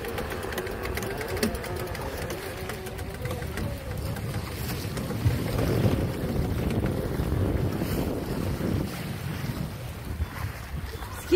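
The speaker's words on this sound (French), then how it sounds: "Petit effet de vent là entre les collines." Steady wind rushes and buffets between hills throughout, mixed with a low continuous rumble like a boat motor.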